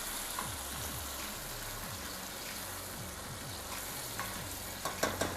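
Onions and peppers sizzle and fry steadily in a pan while being stirred, with scraping stir strokes repeating through the steady hiss and a few louder clatters near the end; no one talks.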